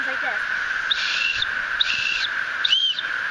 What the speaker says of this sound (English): Show how you blow the whistle.